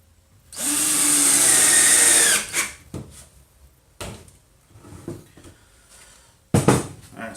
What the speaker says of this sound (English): I am going to go ahead and lock this down with 2 screws on each side instead of just the one